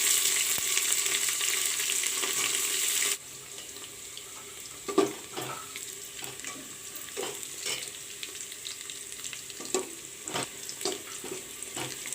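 Onions and green chilies fry in a pan for pulao, a loud close sizzle at first that settles into a quieter crackling hiss with scattered stirring scrapes and clinks.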